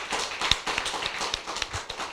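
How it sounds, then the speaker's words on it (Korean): Church congregation at a Friday evening service claps together in a steady, fairly quick rhythm of sharp, close hand claps, with no voices over them. "박수 한번 세게 쳐봐요."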